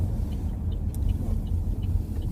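A car rolls along the road with a steady low rumble of engine and tire noise heard from inside the cabin, with a few faint rattles over the drone.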